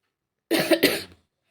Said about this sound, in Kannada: ನನಗಂತೂ ಕೆಮ್ಮು ನೆಗಡಿನ ಹೋಗವಲ್ದು